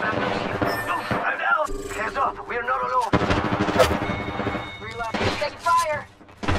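Continuous gunfire in an Apex Legends firefight on Xbox One X, dense bursts and rapid shots mixed with in-game callouts and voices, loud and busy throughout.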